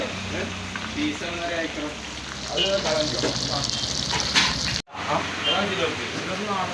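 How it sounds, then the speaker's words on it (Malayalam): Chicken chilli and squid roast frying in a busy hotel kitchen, a loud continuous oily sizzle with stirring clatter close by, while people talk over it throughout and the sound drops out for an instant near the end. "ചിക്കൻ ചില്ലി വറക്കുന്ന ചേച്ചിയാണിത് കൂന്തൽ റോഷ് വറക്കുന്ന ചേച്ചിയാണ്"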